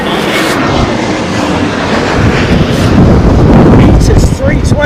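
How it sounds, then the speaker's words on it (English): An airliner landing at Heathrow Airport during a storm, its engine roar building to a loud continuous rumble mixed with gusting wind noise on the microphone, with brief voices in the background. "Look at that beautiful aeroplane, man."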